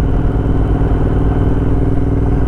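A Royal Enfield Interceptor 865cc twin motorcycle fitted with a quick throttle, ridden on gravel, its engine thrumming loud and close with a steady pulsing beat and some mechanical clatter.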